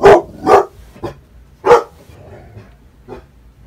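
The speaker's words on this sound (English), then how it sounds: "Somebody opened a door and my dog was gonna go nuts." A dog barking in sharp bursts, three quick barks then another after a pause and a fainter yip near the end, close and loud with no talking.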